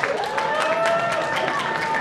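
A large crowd at a political rally applauds and cheers, dense and steady throughout, with sustained tonal sounds threaded through the roar.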